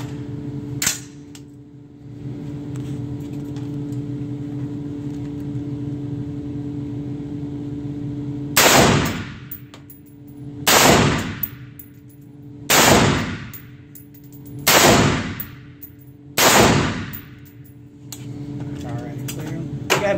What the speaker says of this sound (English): Let's go ahead and put a few rounds through it, Dave